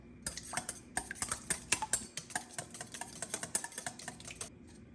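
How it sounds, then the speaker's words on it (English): A cracked egg whisked in a bowl with a utensil, a quick steady run of clinking strokes for several seconds, close and moderately quiet with no talk. "And now I'm gonna crack my egg, and we're gonna whisk it"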